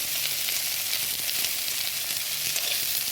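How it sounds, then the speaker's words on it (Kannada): Shredded cabbage fries in a pan for hotel-style noodles, giving a dense, even hiss of sizzling oil, loud and close throughout with no speech. "ಎಲೆಕೋಸು ಹುರಿದ ಮೇಲೆ ಸ್ವಲ್ಪ ಅದು ಕಲರ್ ಚೇಂಜ್ ಆದರೆ ಸಾಕು ಬೇಗ ಬೇಯುತ್ತದೆ"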